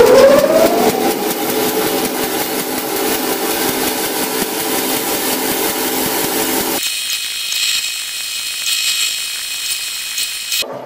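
A power saw cuts steel blade stock during repair of a pulley, a loud steady grinding whine with ratcheting texture that runs for several seconds, then cuts off and leaves a thinner high-pitched hiss.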